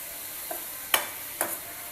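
Vegetables for momos being stir-fried in a pan, a steady soft sizzle broken by a few sharp scrapes of a spatula, close up with no talking.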